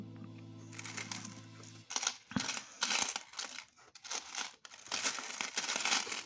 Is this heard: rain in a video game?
no